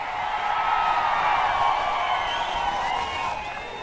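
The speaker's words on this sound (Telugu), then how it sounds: "గెలవాలనే సంకల్పంతో గట్టిగా మీరందరూ కూడా చప్పట్లు కూడా చెప్పండి" A large crowd at a Telugu Desam political rally in Andhra Pradesh claps and cheers steadily, a dense, continuous roar of applause and voices at a fairly even loudness throughout.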